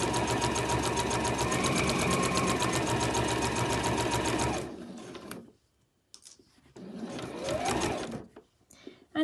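A sewing machine stitches bag lining in a fast, even mechanical rattle for several seconds, stops, then runs a short second burst, close and clear with no talk.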